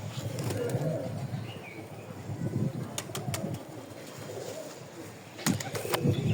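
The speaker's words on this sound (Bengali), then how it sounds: "গাইস কবুতরটা ধরলাম" A freshly caught pigeon with clipped wing feathers coos close by, broken by several sharp bursts of wing flapping across a few seconds.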